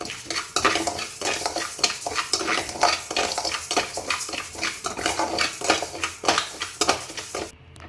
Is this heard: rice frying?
yes